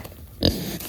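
Kunekune pig on a farm gives a short snort-like grunt in the middle of an otherwise quiet moment, close and moderately loud.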